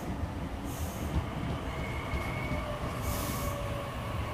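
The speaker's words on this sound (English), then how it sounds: "Terminating service, arriving into platform number 2" A Sydney Trains service pulls into the platform at Berowra station with a steady loud rolling rumble, faint high brake squeals and a brief hiss, heard up close with no talking.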